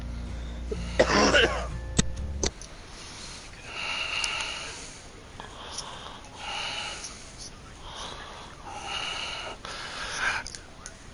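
A man coughs a couple of times near the start, a short harsh burst, followed by quieter breathy noise and low background sounds.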